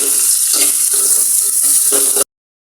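Chopped onions frying in a generous amount of oil while being stirred, giving a steady, close sizzle with soft scraping pulses from the stirring and no voices.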